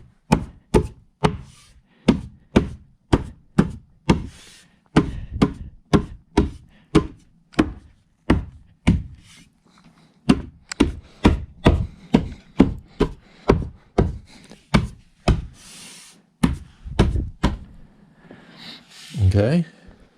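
Sharp repeated taps of a mallet on IKEA Tornviken cabinet panels being seated onto wooden dowels, dozens of crisp close knocks in an uneven steady rhythm, ending with a brief rustle.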